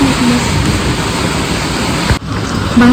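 Steady rain hisses outside, a dense even wash of noise with a brief dip near the end.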